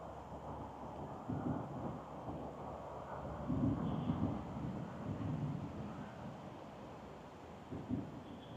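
Outdoor wind during a flight of a small 3-inch Pavo Femto FPV drone rumbles low and fairly faint as gusts buffet the microphone, swelling in a few places over a steady dull roar.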